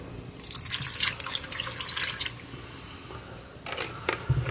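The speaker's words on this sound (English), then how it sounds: "I'm going to go ahead and pour a little bit of the tomato juice in there, just so it doesn't burn to the bottom" Tomato juice poured into a pot of venison stew, a short splashing, gurgling pour up close that tapers off, followed by a few light drips and clinks.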